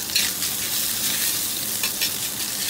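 Minced fresh half-fat pork stir-fried in a hot wok sizzles loudly and continuously, with bursts of crackle as it is tossed, close up and with no talk over it.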